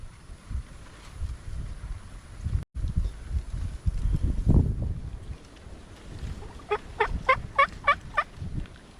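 Wild Osceola turkeys gobble in a central Florida pasture: a rapid run of several gobbles at moderate distance, heard over wind and low rumbling background noise.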